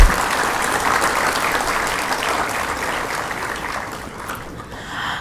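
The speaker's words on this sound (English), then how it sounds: "a huge round of applause to all of them" An audience at an airline management certificate valedictory ceremony gives a big round of applause for the graduating learners, a loud sustained clatter of many hands that tapers off at the end.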